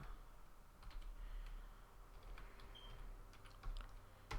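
Quick, uneven clatter of keys on a computer keyboard while playing the hacking game Hacknet, close and fairly quiet, with bursts of rapid keystrokes and short pauses.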